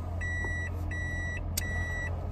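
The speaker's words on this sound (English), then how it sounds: "Cars going in reverse." Steady reversing beeps from a vehicle backing up, three evenly spaced electronic tones over a constant low engine rumble, fairly close and clear.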